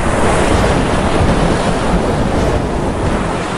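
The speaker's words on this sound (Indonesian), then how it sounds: "Tetapi kemudian ombaknya semakin tinggi." Storm waves surge in a continuous dense roar with gusting wind buffeting a ship at sea, loud and steady throughout with no voices.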